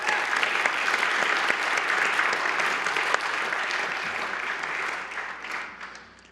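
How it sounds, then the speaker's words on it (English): Dense, steady applause fills a hall at a city's State of the City address, loud and sustained from a large audience before tapering off near the end. "And now we can give another round of applause."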